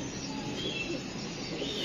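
A pigeon coos softly up close, low throaty murmurs repeating over a quiet room with faint chirps mixed in.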